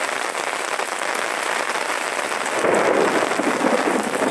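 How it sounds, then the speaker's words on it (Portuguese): Heavy nighttime rain in Sobral, Ceará, a dense steady hiss of falling water that grows louder and fuller partway through, heard up close with no voices. "É água, viu? Muita chuva."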